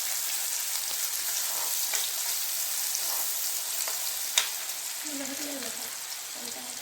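Onions frying and being stirred in a pan for paneer curry, a steady close sizzle with faint scraping, and a voice speaking briefly near the end.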